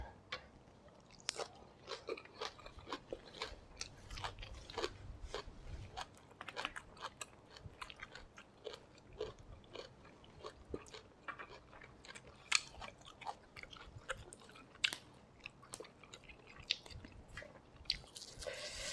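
Close, wet chewing and crunchy biting of fermented soybean chili dip eaten with bamboo shoots, gotu kola leaves and young hog plum shoots, steady mouthfuls repeating throughout with no talking.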